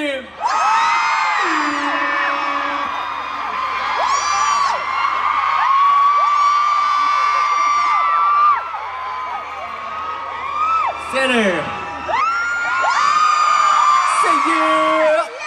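A crowd of fans at a Lee Joon Gi fan meeting in Singapore screams and shouts in loud, sustained bursts, swelling and dipping in waves with brief lulls between rounds of cheering.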